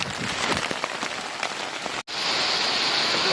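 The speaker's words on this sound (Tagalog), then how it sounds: "Ulan na, guys." Steady rain pours down on a surface at night, a dense continuous hiss of drops, briefly cut off for an instant before resuming.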